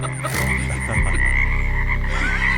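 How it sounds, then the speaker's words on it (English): Frogs croak at night outdoors in a loud, close chorus of overlapping ribbed calls, thickening partway through into a continuous pulsing drone. "Hear them frogs tonight?"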